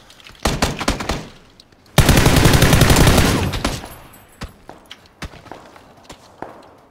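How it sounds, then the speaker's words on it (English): Automatic gunfire in the video game PlayerUnknown's Battlegrounds: short sharp shot bursts, then a sustained loud stream of rapid fire lasting over a second, followed by scattered single shots and footstep-like thumps, with no talk. "Who's shooting?"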